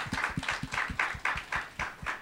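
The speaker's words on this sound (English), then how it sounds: "Let's give them a big round of applause." A church congregation gives rhythmic applause, an even series of sharp claps repeating about every quarter second, fairly faint and with no talk over it.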